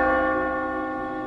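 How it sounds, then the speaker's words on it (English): Buddhist temple bell ringing out with a sustained metallic hum, rich layered overtones slowly decaying after the strike, heard alone and fairly clear. "The sound of a bell from a Buddhist temple gave hope to the desperate couple."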